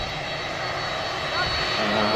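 A Boeing 767 taxis out at Manchester Airport, its jet engines a steady distant whine and rumble under the airport ambience, with a faint voice also present.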